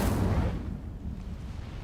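Incendio fire spell cast in the Hogwarts Legacy video game, a loud burst at the start that fades into a rumbling, crackling low roar for the rest of the short moment.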